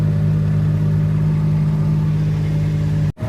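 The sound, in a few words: Kubota kei truck engine driving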